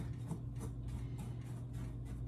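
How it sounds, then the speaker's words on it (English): A small whisk stirs dry flour and oats together into a crumble mixture in a bowl, giving quick rhythmic scratchy strokes close up over a steady low hum, with no talking. "And I'm going to mix this together with my little whisk"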